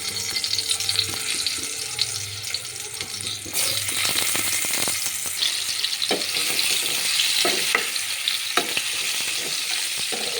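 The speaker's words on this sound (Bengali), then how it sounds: "সরিষার তেল গরম হয়ে গেছে, এবারে আমি" Pointed gourd frying in hot mustard oil in a kadai, a steady loud sizzle that swells after the first few seconds and holds, with occasional stirring clinks and scrapes.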